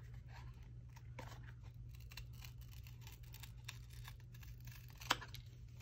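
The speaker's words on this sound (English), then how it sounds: "Take my scissors" Scissors snip through thin cardboard from a 12-pack drink carton, a few faint close crisp cuts in a quiet room, with one sharper snip toward the end.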